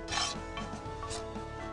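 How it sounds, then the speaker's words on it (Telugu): Gongura leaves with ground chili paste are worked in a stone mortar, giving quiet, close rasping and rubbing strokes in an uneven rhythm. "ఈ కారంలో ఈ నూరిన దాంట్లో ఈ గోంగూర వేసుకుని ఇలా దంచుకోవాలి."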